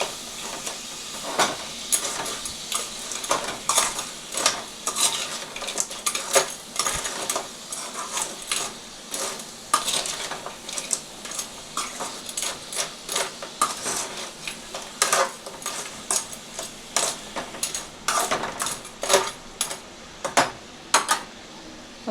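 Crab curry is stirred in a cooking pot, with a spoon scraping and clinking against the metal in quick irregular strokes over a soft bubbling hiss.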